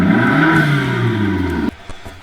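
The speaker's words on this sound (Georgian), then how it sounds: "ეს ის მაყუჩებია, რომლების დამსახურებითაც აქვს მაგარი ხმა." An Abarth 500 with a turbocharged 1.4-litre four-cylinder engine revs through its exhaust mufflers in one loud, close, sustained rise, then cuts off abruptly, followed by a few faint clatters.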